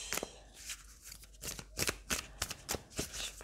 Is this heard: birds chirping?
no